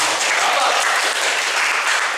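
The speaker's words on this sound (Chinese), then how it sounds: "咁啊我哋俾掌聲佢哋先，咁啊我哋拍手先啦" Audience applause at a school alumni talk, a loud, dense, sustained burst of many hands clapping close by.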